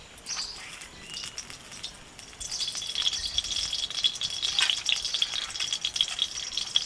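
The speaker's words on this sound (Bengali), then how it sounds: "কড়াতে 2 চামচ সর্ষের তেল দিয়ে দেব।" Two spoons of mustard oil heating in a wok, a faint hiss that swells into a steady sizzle after a couple of seconds, with kitchen clatter and bird chirps in the background.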